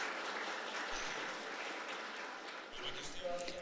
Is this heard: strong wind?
no